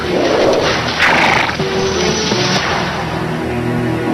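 A horse neighs loudly and close, a strong whinny that rises and falls, with hoof sounds and other noise around it.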